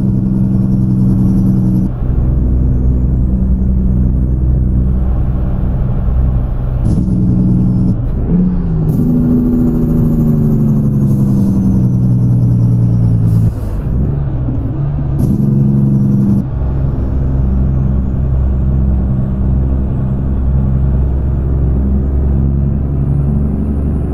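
A Caterpillar C18 engine in a Peterbilt 579 truck in American Truck Simulator rumbles loudly, with a deep drone that rises and falls through gear changes and revving, with no voices.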